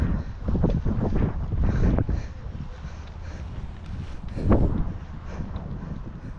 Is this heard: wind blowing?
yes